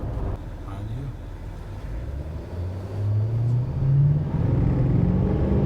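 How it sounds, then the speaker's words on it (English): A tuned 2020 Duramax L5P diesel pickup truck pulls away from a standstill while towing, its low engine drone rising steadily in pitch and loudness inside the cab, with voices talking over it. "All right, Nick, we are doing the takeoff here in the L5P."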